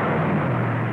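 Engine of a 1961 Ford Thunderbird, a steady, broad roar sustained evenly across the whole second with no pauses or speech.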